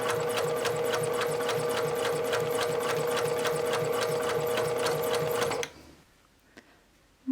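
A sewing machine stitching a seam for a centered zipper, a loud, close, rapid rhythmic whirr and tapping that runs steadily and then stops abruptly, leaving near silence.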